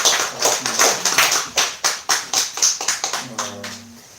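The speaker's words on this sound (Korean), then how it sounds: "축복하며 우리 같이 한번 박수 한번" Congregation at a Sunday church service clapping together, a steady run of rhythmic hand claps building to a brisk unison beat, with a faint voice and organ-like tones entering near the end.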